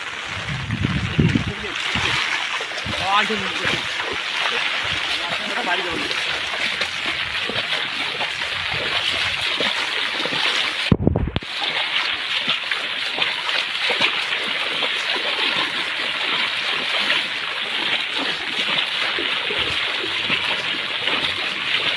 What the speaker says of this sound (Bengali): সরাসরি নদীর বাঁধ ভেঙে গ্রামে ঢুকে গেল জল